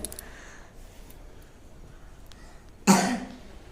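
One sharp, close cough bursts out after a quiet stretch of low background noise and trails off briefly.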